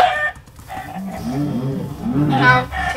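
Several cow moos in the video game Minecraft, loud and close, come in overlapping low bellows with brief pauses, over a steady background hum.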